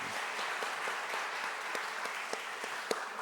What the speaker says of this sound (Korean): 우리 수고한 우리 학생들 또 특별히 듀엣한 우리 두 친구 위해서도 좀 박수 한번 다시 한번 해주시면 감사하겠습니다